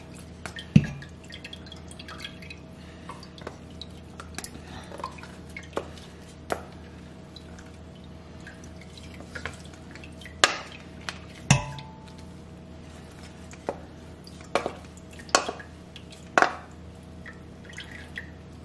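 Buttermilk drips and splashes as freshly churned butter from a Gem Dandy butter churn is squeezed by hand, giving scattered wet drops and squishes that are close and fairly faint, with pauses between them.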